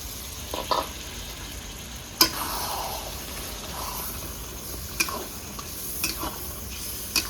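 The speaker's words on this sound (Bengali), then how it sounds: "বাটি থেকে জলটাও একটু দিয়ে দেবো।" Water splashes into a sizzling village-style mutton curry cooking over a clay stove. A soft, steady sizzle runs throughout, broken by a few sharp clinks and scrapes of stirring.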